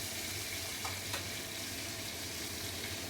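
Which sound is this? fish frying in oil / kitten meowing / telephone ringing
fish frying in oil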